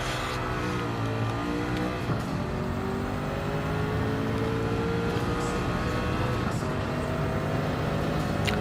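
A Gran Turismo 7 race car engine drones steadily throughout, its pitch climbing through gears with brief dips at shifts, loud and continuous with faint tire noise.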